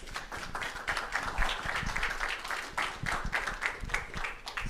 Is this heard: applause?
yes